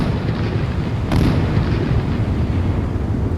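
A railgun round from a mag rail hits and explodes in a naval video game, giving a sustained loud, rumbling blast with a sharp crack about a second in that rolls on without talk.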